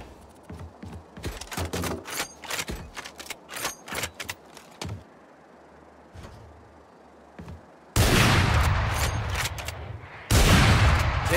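Guns fire at practice targets in Valorant: rapid single shots and short bursts crack sharply, followed by a pause, then two loud sustained automatic volleys near the end.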